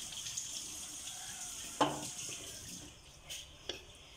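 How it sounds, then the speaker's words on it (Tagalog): Water running from a tap while peeled vegetables are rinsed, a faint steady stream broken by a few sharp splashes and clinks as the produce is handled, heard alone with no talking. "Hugasan natin mga ka-farm lover."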